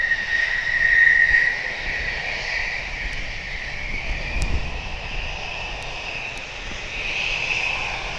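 Military jets taxi at RAF Lakenheath, a loud, continuous turbine whine and roar that swells and fades slightly as the aircraft move on the ground nearby.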